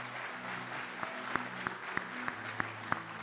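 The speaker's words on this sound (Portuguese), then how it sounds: "Aplaude o teu Deus, aplaude." A church congregation claps along in a steady rhythm, sharp distinct claps landing about every third of a second over a sustained musical drone and background hum.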